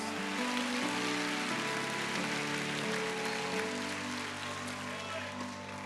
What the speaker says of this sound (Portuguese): aplauda bem forte ao Rei da Glória